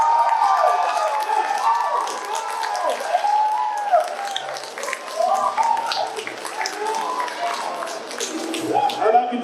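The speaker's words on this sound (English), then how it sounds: "I want you to cheer loudest for who you want to move on to the finals" A convention crowd at a voice contest cheering and shouting for contestant 1, a dense roar of many voices with whoops and some clapping, sustained throughout.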